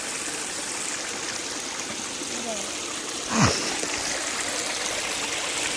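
Woodland creek spilling over a small waterfall, a steady close rush and trickle of water that runs unbroken throughout, with a brief splash partway through.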